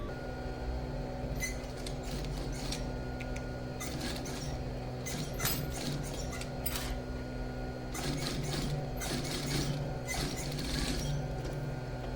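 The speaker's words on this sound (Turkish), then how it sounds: "Kenarından çımayı da dikiyorum." Stitching along the edge of a sewn fabric pocket bag: several bursts of close, busy mechanical rattling and clicking separated by short quieter gaps, with no voices.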